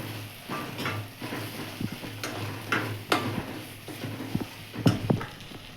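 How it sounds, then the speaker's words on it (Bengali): Shrimp and spices are stirred in a pan, giving intermittent scraping and clicking strokes over a faint sizzle, fairly quiet and close, with no talking. "এবার আমি নাড়াবো।"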